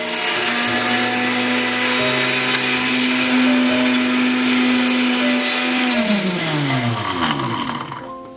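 A kitchen blender whirs loudly through ingredients and water with a steady motor whine, then winds down in pitch near the end as it slows to a stop.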